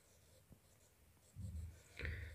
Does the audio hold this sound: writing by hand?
yes